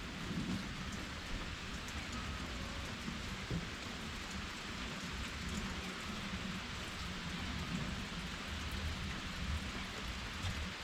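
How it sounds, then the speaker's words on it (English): Steady rain falls outdoors near a worksite with a miter box, a constant dense hiss of drops hitting surfaces for the full eleven seconds, fairly faint and even, with no talk. "Getting a little rain."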